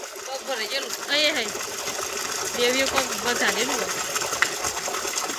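A borewell water pump motor runs with a steady mechanical whir and rattle, heard close while people talk over it.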